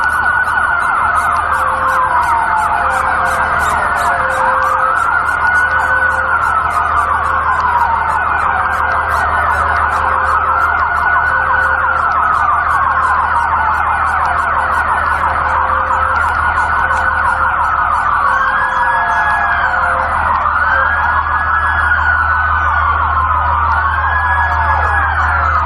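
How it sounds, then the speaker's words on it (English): Police car sirens wail at a street protest, several overlapping sweeping tones rising and falling continuously and loudly over a low vehicle rumble, with no voices. "it really feel like they're using LRAD, and that's more than sirens"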